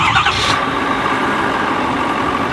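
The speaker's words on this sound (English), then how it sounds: "First things first, we're going to get the truck all started up." A 2022 Ford F-350 King Ranch pickup fitted with an 8-inch lift kit and 38-inch tires cranks briefly, then its engine catches and settles into a steady, loud idle close by.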